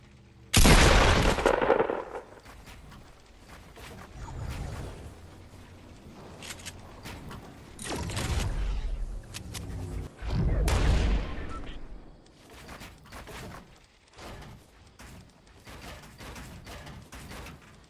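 Gunfire in a video game, with several sharp bursts and scattered shots of varying loudness under a busy mix of game effects and mechanical clicks.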